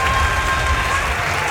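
Wrestling crowd applauding Marty Scurll and Will Ospreay as they stand face to face, a dense, steady wash of clapping filling the arena throughout.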